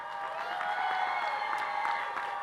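Steady applause from a crowd at a community college commencement ceremony, an even, sustained wash of clapping without strong peaks.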